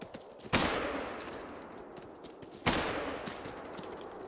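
Two loud gunshots from the hunting video game Call of the Wild, spaced about two seconds apart, each a sharp crack followed by a long rolling echo over quiet outdoor ambience.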